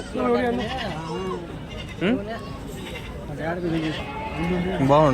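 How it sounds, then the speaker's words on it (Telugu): Rams and male goats bleat at a Saturday sheep market in Angallu. Several wavering bleats rise over a steady crowd murmur, and people talk nearby. "ఇక్కడున్నాయి చూడండి ఫ్రెండ్స్ మంచి పోతులు మేకపోతులు"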